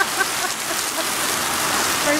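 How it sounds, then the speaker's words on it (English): Torrential rain pouring down in an Auckland storm, a dense, steady hiss of heavy drops hitting surfaces nearby. "that's how much water is coming down at the moment"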